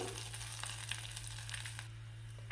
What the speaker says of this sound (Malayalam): ഉലുവ ഒന്ന് പൊട്ടി തുടങ്ങിയിട്ടുണ്ട്